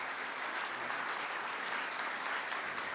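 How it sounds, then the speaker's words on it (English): Sustained audience applause at the KEPSA 10th anniversary celebration ceremony, a dense, steady wash of clapping from a large crowd lasting throughout. "A big round of applause as Carol does that."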